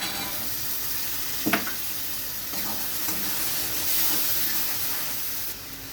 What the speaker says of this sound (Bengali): এবার আমি দিয়ে দিচ্ছি এক বাটি মটরশুঁটি বা কড়াইশুঁটি